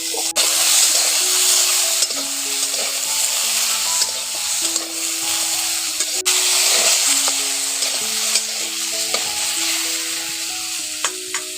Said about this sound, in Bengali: এখন পটলগুলো একটু হালকাভাবে ভাজা হয়ে গেছে, এবার আলুটা দিয়ে দিচ্ছি। একসঙ্গে কিছুক্ষণ ধরে ভেজে নেব।